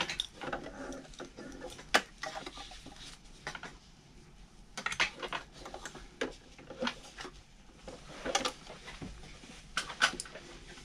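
A sewing machine zigzag-stitches along the edge of a foam gun case in short bursts of mechanical clatter, broken by pauses and fabric handling noises on a busy work surface.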